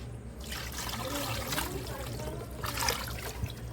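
Water runs and trickles while fish is rinsed during village cooking, a soft continuous splashing flow close by with faint sounds in the background.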